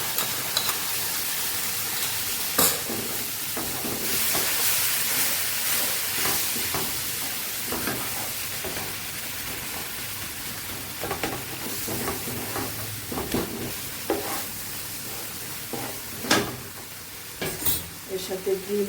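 Tomato masala with sour yogurt sizzles and hisses softly in a pan. Scattered scrapes and stirring clatters sound close by, and there is no talking.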